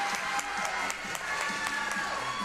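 A crowd at a girls high school basketball game in the third quarter applauds and cheers steadily, with scattered claps heard from a distance through the whole stretch. Faint talk from the broadcast booth sits underneath.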